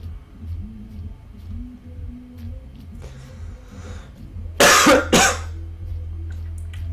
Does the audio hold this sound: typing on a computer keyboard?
no